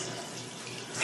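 Beef broth pours steadily into a pot for an Irish stew, a continuous liquid splashing with a brief louder surge at the very end, close and alone.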